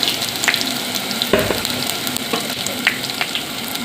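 Cumin hitting hot oil with garlic already browned, a bright crackling sizzle with a few sharp spatula scrapes, close and steady throughout.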